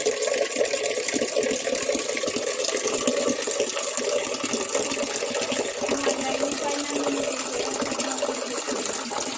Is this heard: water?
yes